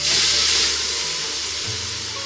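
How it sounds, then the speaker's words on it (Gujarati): Tomato puree added to a hot mustard seed and asafoetida tempering in a big pot for a large batch of chickpeas, producing a loud continuous hiss and sizzle heard up close with no talking. "પછી આમાં પણ આપણે ટમેટાની પ્યુરી એડ કરી દઈએ."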